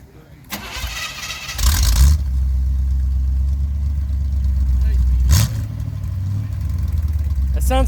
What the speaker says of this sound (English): I wanted to hear the exhaust on this